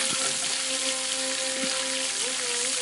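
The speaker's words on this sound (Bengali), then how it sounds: "খুব ভালোভাবে মশলাটাকে কষিয়ে নেব" Spice paste of tomato, turmeric and Kashmiri chili powder with a little water frying in a pan, a steady close hiss and sizzle with faint tonal hum behind it, no voices.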